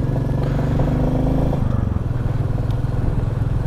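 Motorcycle ridden on a road in Arunachal Pradesh, its engine a close, steady droning rumble that holds throughout with no pauses or revving peaks.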